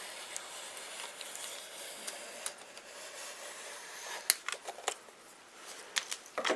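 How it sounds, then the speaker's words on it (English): Scissors snip through covering material on a Guillows B-24 RC model plane, a few quiet, sparse cuts and rustles close by in a hushed room. "we use our scissors again, and you can get it right where it needs to be just by using the width of the blade of the scissors."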